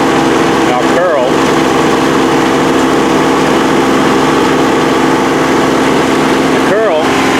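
The small diesel engine of a Kubota B2400 tractor runs steadily and loudly while the loader bucket curls, with a constant chugging hum and hydraulic strain. Someone speaks over it.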